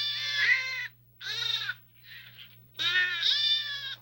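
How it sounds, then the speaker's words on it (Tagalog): Hungry goats bleating nearby in a film scene: four loud, wavering, nasal bleats in quick succession, the third softer and shorter, with a low steady hum beneath. "Kambing? Parehong gutom na gutom."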